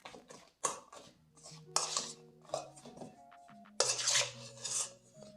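Chocolate-coated pecans tossed and mixed in a bowl make intermittent bursts of scraping, rattling and clinking, close by, separated by short quiet gaps, with faint tonal sounds in the background.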